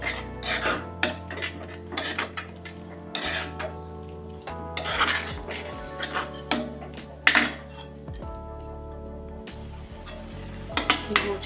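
A spoon stirs dal makhani with cream in a metal pot, the scraping and clinking coming in irregular bursts over a low steady hum and faint simmering.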